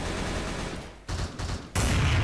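Sustained bursts of gunfire from the first-person shooter game Truy Kich, in a zombie close-combat mode, loud and continuous with a brief lull near the middle before the shooting resumes.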